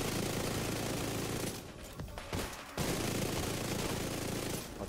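In The Division 2, dense sustained automatic gunfire roars loud and close, breaking off briefly in the middle before resuming.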